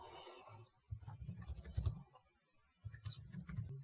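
Code being typed on a computer keyboard: two bursts of quick, soft key clicks separated by a short pause, quiet and close with no talking.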